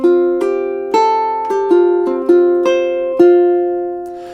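Ukulele and acoustic guitar duet melody from a learning piece: plucked notes in a steady, gentle rhythm, each ringing and decaying, close and clear with no voices.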